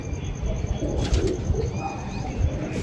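Pigeons at a village rooftop loft, with soft low coos and rustling over a steady background hum, some birds flying in; faint distant chirps, no talk.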